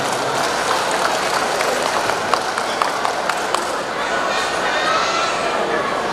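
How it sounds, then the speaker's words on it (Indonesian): A crowd at a community celebration applauds the event organizing committee, with steady, dense clapping that fills the hall for several seconds, fairly loud and close. "tepuk tangan untuk panitia penyelenggara."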